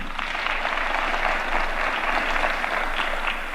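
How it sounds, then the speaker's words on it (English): A crowd at a Kenyan shipyard commissioning event, attended by religious leaders, gives a steady, full round of applause, a continuous dense clatter of many hands at moderate loudness with no gaps. "A better hand of applause"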